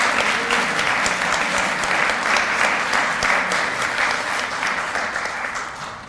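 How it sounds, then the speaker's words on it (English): Lecture audience applauding a speaker at a university lecture event, a sustained round of many hands clapping at close range that fades slightly toward the end, with no voices over it. "And I want you all to join me in giving her a round of applause."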